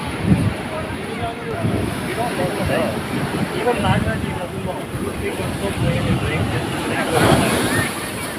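Loud sea waves surge and crash continuously on nearby rocks in Kerala, with rushing wind noise and someone speaking over the waves.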